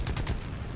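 Rapid bursts of gunfire in the War Thunder video game strike a plane flying near boats, sounding as a quick volley of several sharp cracks over a low rumble, fairly quiet and with no talking.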